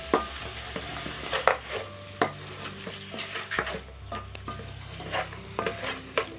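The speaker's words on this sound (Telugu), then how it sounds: "దీంట్లోనే ఒక్కొక్క కొత్తిమీర ఒక్కొక్క కప్పు పుదీనా వేసి బాగా మిక్స్ చేద్దాం" Coriander and mint stirred into a chicken pulao base in a pot, with repeated sharp scrapes and clinks of a spoon against metal over a low hiss, fairly quiet and without speech.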